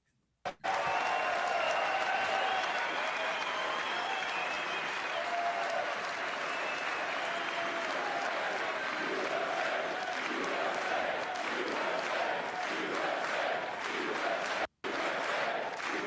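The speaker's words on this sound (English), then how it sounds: "Oh my gosh, just them cheering." Long, sustained applause with cheering from a large crowd in the chamber at the State of the Union, steady and dense throughout with a brief dropout near the end.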